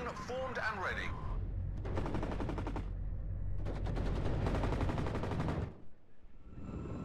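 Machine guns firing in a war strategy video game against Russian forces, with long rattling bursts of rapid automatic fire in two main volleys, fairly loud and dense, then a brief quieter tail.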